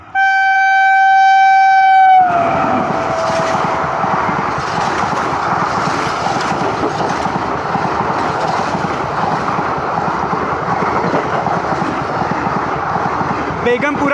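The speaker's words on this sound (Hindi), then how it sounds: "जिस ट्रेन के बारे में सबसे ज़्यादा क्वेश्चन आ रहे थे बेगमपुरा, वो ट्रेन देखिए अभी आपने।" The Begampura Superfast Express, an Indian passenger train, sounds a loud horn blast for about two seconds, then thunders past close by with a continuous roar and wheel clatter.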